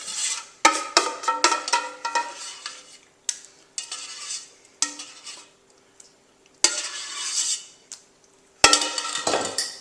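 Cucumber and onion salad being tossed with a sour cream and apple cider vinegar dressing: repeated wet squelching stirs and spoon scrapes against a bowl, in bursts separated by short pauses, close and fairly loud.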